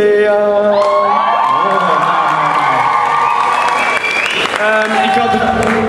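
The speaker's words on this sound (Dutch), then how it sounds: "Applaus!" Audience applause and cheering at a Belgian school's 100-days celebration in Westmalle, a dense continuous clapping crowd with whoops and shouts, voices and musical tones layered over it throughout.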